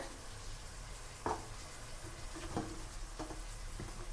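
Spice masala sautéed with ground coriander for an eggplant bhuna sizzles softly in a pan, with a few distinct scraping stirs of a spoon breaking through the steady frying hiss.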